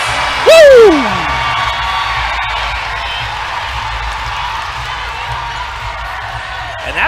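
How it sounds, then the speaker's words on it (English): At a women's UpShot League basketball game between Greensboro Groove and Savannah Steel, a loud crowd roars and cheers after a basket, a sharp whoop rising above the sustained arena noise before it slowly eases. "that's going to get the Greensboro Groove crowd fired up"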